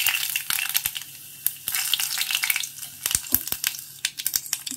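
Mustard seeds sputtering and popping in hot oil with urad dal and broken dried red chillies while tempering for rasam, a dense hiss of frying with sharp crackles and pops scattered throughout, close up.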